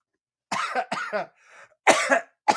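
Harsh coughs break out in a fit, several bursts close together with short gaps and a throat-clearing rasp, loud and near with no other sound around them.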